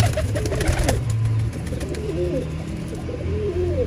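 Ferozpuri pigeons cooing softly in a rolling, repeated pattern, several low coos close by over a steady background hum, no talk.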